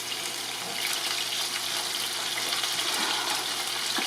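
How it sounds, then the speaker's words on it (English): Mustard-seasoned pork roast browning in a hot pan, giving a continuous close sizzle and crackle with a hiss that holds steady throughout. "So we're just browning the very side of that roast."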